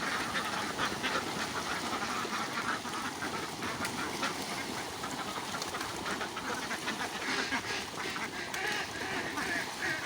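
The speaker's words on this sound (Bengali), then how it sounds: "হাঁসগুলো এখন সব ছেড়ে দিলাম এখন সব হাঁস বেরোয় যাবে" A flock of farm ducks quacking continuously as they are let out of their duck house toward a pond, dense overlapping calls at moderate distance.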